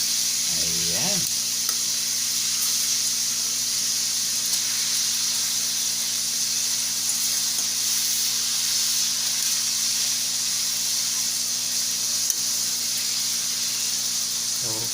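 Pork ribs sear in a hot pan for sinigang, giving a steady, close, continuous sizzle and hiss throughout, with a faint low hum underneath and no talking.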